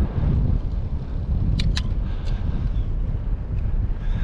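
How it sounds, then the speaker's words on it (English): Strong wind buffets the microphone while cycling the Al Qudra Cycling Path in Dubai, a loud, steady rumbling roar filling the whole clip with a few brief higher clicks and no talk. "Well, it's really windy, so that's really bothering,"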